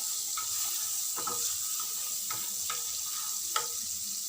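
Butter and coconut oil sizzle in a pan for chicken fried rice, a steady hiss with a few brief crackles and clinks from stirring, heard close and alone without any talk.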